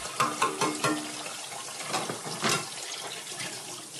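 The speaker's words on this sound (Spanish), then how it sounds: "apenas se escuchaba detrás del sonido del chorro intermitente del agua" Tap water runs in an intermittent stream while dishes are rinsed at a kitchen sink. Several splashing bursts come close together near the start, then the flow gives a softer, steadier spatter, with no voices.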